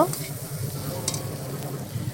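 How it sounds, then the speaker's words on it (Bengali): Water poured into potato curry frying with cumin, ginger, green chilli and tomato produces a loud, steady hiss and bubbling sizzle up close, with a few faint clinks and no talk. "তো তরকারির মধ্যে আমি জল দিলাম"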